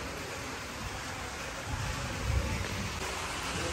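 Heavy torrential monsoon rain pouring down steadily as a dense, even hiss with no pauses, a little louder and fuller toward the end, and no voices.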